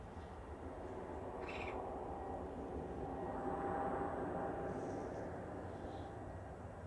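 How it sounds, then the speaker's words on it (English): An EasyJet airliner departs Manchester Airport on a flight to Prague, a steady, distant jet roar holding evenly throughout with no talk. "That was EasyJet to Prague departing"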